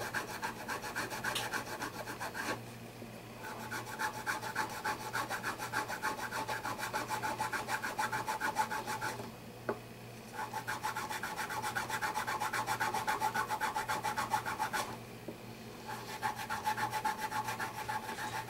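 Close, continuous rasping as leveled frets on a Brazilian rosewood guitar are smoothed to the same grit, steady back-and-forth rubbing strokes broken by short pauses.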